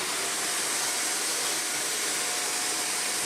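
A Shark NZ850UKT upright vacuum cleaner running close by, a loud steady high-pitched whoosh and motor whine with no change in level and no talk.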